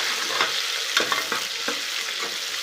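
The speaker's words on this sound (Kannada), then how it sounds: "ಈರುಳ್ಳಿ ಚೆನ್ನಾಗಿ ಕೆಂಪಗಾಗೋರ್ಗು ಹುರ್ಕೋಬೇಕು" Onions frying in a pan for home-cooked chicken biryani give a steady close sizzle, with a few soft stirring scrapes and clicks at intervals and no talking.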